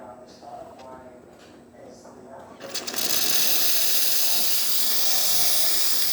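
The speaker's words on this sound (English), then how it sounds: "we're still going to be able to see the steam coming out" Steam hisses loudly and steadily from the steam wand of a repaired Jura Impresa XS90 coffee machine after a broken motor was fixed, bursting in abruptly after quieter mechanical ticking and continuing as a broad, constant rush.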